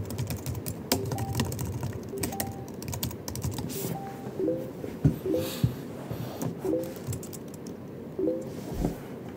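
Continuous clicking of fingers typing on a computer keyboard, quick irregular keystrokes close up and fairly loud, with occasional louder taps and a faint background hum.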